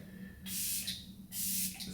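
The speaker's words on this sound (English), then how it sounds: "So I'm just going to take the spray," Two short bursts of setting spray spritzed straight down the center of a face, each a loud close hiss lasting under a second, separated by a brief pause over a faint steady hum.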